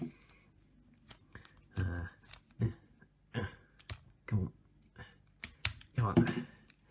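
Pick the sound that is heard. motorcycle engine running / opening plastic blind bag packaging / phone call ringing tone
opening plastic blind bag packaging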